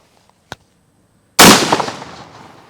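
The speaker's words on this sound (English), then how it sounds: "So this is the American whitetail 1 ounce slug." A Benelli M4 shotgun fires a single 1 ounce slug at close range, one loud, sharp blast that rings out and fades, after a faint click just before.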